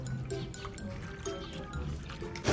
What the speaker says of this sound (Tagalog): So una maglalagay tayo ng tubig.